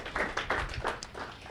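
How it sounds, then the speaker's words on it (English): Audience clapping after a lecture on education and democracy, a short run of scattered hand claps from a modest crowd in a room, at moderate level with no talk over it. "Let's give Ann a round of applause."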